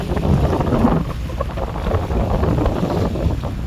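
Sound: large cargo ship passing on a river in Holland

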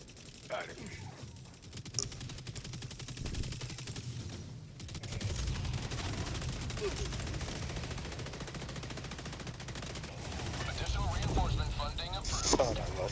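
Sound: enemy rocket salvo fire in video game Helldivers 2

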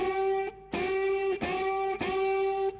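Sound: electric guitar unison bend with distortion

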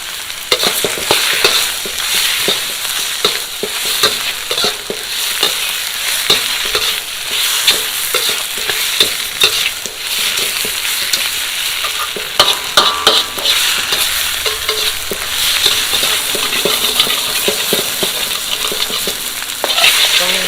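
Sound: stir-frying spicy catfish in a pan

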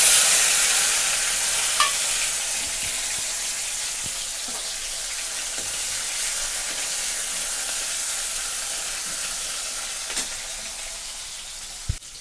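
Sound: tomatoes added to hot oil, sizzling

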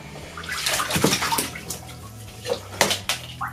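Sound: anaconda moving and splashing in bathtub water

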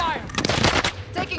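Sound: gunfire in the video game Warzone

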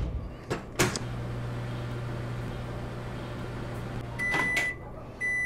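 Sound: microwave running in Job Simulator video game

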